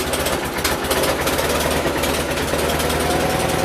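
A tractor engine, just started, runs steadily with a rough, rapid knocking chug, loud and close, without pause.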